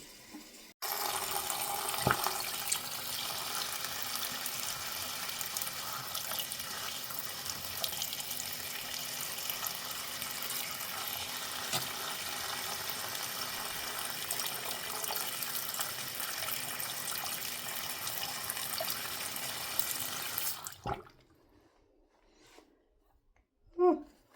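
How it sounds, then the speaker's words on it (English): A tap runs to warm up the water, a loud, steady gush that starts abruptly and pours for about twenty seconds before shutting off, leaving near-silence and a brief knock. "Just going to run the water for a second, get it warm."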